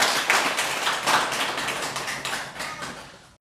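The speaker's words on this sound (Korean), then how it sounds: "우리 하나님께 박수로 영광 돌리겠습니다." A church congregation claps in a quick, dense burst that fades gradually over a few seconds, moderately loud and without speech over it.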